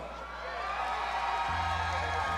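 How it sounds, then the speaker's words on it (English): Crowd cheering at an amateur MMA event as fighter Guirlando enters the arena, a broad steady roar of voices and whoops, moderately distant, swelling slightly and holding level throughout. "Big crowd reaction out of Guirlando"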